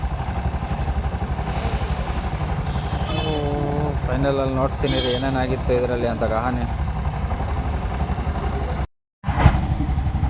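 A Bajaj BS6 engine with crankshaft sensor and ignition coil fault codes idles steadily close by. Someone talks over the running engine.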